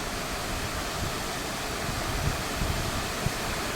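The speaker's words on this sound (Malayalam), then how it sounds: "ഇതാണ് ആ ചെറുവള്ളി എസ്റ്റേറ്റിലെ വെള്ളച്ചാട്ടം." The waterfall at Cheruvally Estate, running full of water, makes a steady, dense rushing roar that stays even from start to finish, with no talking.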